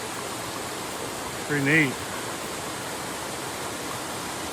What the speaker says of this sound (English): Little cascade, I guess you call it.